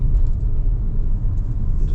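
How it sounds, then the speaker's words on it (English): GAC Emzoom in sport mode accelerating from a standstill toward 100 km/h, a low, steady rumble of engine and road noise heard from inside the cabin, fairly quiet and continuous. "I found a spot we can do a quick 0 to 100 run"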